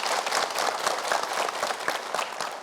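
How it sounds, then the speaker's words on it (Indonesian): Studio audience at an Indonesian religious talk show breaks into lively applause, a steady mass of clapping with distinct individual claps standing out, moderately close and without speech. "Boleh tepuk tangan yang meriah."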